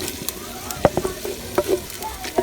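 Mashed brinjal for baingan bharta is stirred in a hot pan outdoors in a village setting: a soft sizzle with irregular scrapes and clanks of the spoon against the pan, close up, without talking.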